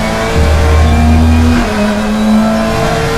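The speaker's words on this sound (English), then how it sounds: "Downshift, brake, get that third gear." Race car in the RaceRoom sim dropping gears under braking, engine note stepping down through shifts, loud and close with no talk over it.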